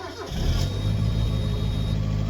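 A Mazda MX5 that has sat since February on stale petrol starts up after a short quiet moment and settles into a steady, close, slightly uneven idle.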